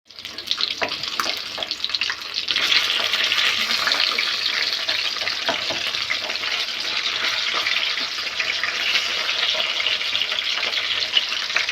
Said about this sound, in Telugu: ఆయిల్ హీట్ అయింది ఇప్పుడు ఒక్కొక్క ఫిష్ మొక్కను తీసుకొని ఇలా ఫ్రై చేస్తున్నాం